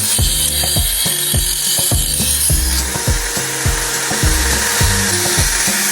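A drilling machine fitted as a sharpener whirs steadily with a rapid, rhythmic mechanical clatter, loud and close, as a knife blade is worked against it.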